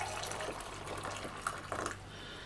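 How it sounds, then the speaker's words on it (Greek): Hot water runs into a container in a kitchen while making a melted chocolate preparation, a steady faint splashing flow with a few brighter gurgles near the end. "Θα βάλουμε νερό καυτό."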